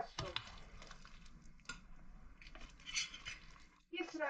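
Cucumbers and brine go into hot glass jars in a kitchen, with clinks of glass, knocks and soft wet squishes, close and fairly quiet, and a voice talking throughout.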